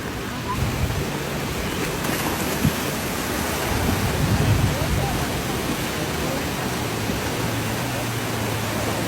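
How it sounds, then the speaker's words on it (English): Floodwater waves surging where people go surfing during a flood, a steady, loud broadband roar that fills the whole stretch, with faint low rumbles within it. "Look at the waves."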